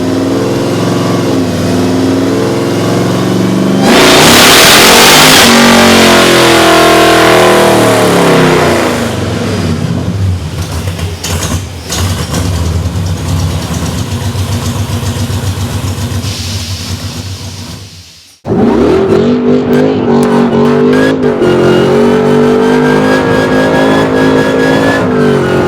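A Hellcat-swapped 1972 Dodge Demon making 710 horsepower roars through long, loud revs close up, climbing and holding with a throbbing supercharged tone, cutting briefly near the end before the engine bursts back to a hard rev.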